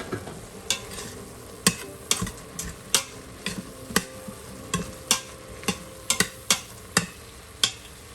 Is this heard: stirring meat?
yes